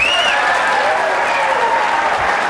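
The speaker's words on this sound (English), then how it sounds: "You'll hear the crowd erupt." Crowd erupting into sustained applause and cheers at a women's pool match at the 2005 US Open in Albuquerque, a dense, steady roar of clapping filling the hall throughout.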